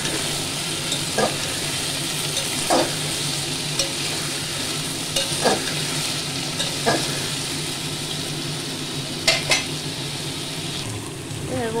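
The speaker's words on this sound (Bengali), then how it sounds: "এগুলো ভালো করে ভেজে নেব" Vegetables for a spinach curry frying in a pan, a steady close sizzle running throughout with occasional stirring scrapes and clicks of the spatula, no talking.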